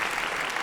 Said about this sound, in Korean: 순서 맡아 주신 목사님 선교사님들께 다시 한번 감사의 박수 드리겠습니다